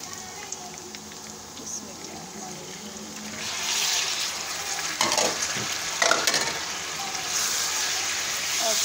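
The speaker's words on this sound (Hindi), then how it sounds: "और इसके अंदर जो है मैं डालूँगी चिकन" Chicken frying in a pan with garlic and ginger, a soft sizzle that grows louder as the pieces go in, with scraping stirs and bursts of crackling near the end.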